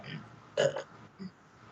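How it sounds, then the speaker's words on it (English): A person gives one loud, short burp close to the microphone, followed a moment later by a smaller gulping sound, over quiet room noise. "Oh, that was a healthy burp"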